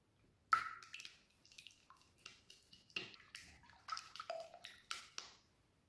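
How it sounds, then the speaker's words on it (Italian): Eggs crack into a bowl for two-tone shortcrust pastry: a sharp close tap, then a series of soft wet drips, taps and squelches in an otherwise quiet kitchen. "Cominciamo a rompere le uova in ciotola."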